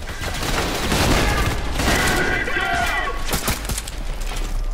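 Bursts of gunfire from a bullpup G36-style rifle in the shooter game Trepang2 crackle loudly and densely up close, with scattered impacts and game effects mixed in.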